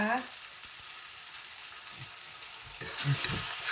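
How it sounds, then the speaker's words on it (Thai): Mushrooms and pork tenderloin stir-fry in a pan, a continuous soft sizzle with a few scraping stirs growing busier toward the end, close and moderately quiet. "อันนี้เรามาผัดนี่กัน"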